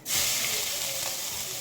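Chopped onion hitting hot oil in a pan for a mutton dish, a loud, close steady sizzle that flares at the start and holds as a continuous bright hiss.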